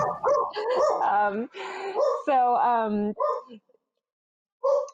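A pet dog lets out a run of loud, close barks mixed with whiny whimpers, the noises coming in uneven bursts before dropping to quiet and then returning briefly at the end.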